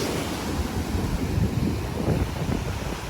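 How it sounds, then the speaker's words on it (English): Ocean waves breaking around a person standing in the surf, a close, continuous rushing wash with wind buffeting the microphone and no voices. "But waves are crashing in my legs, getting a little bit of refreshment on my calves"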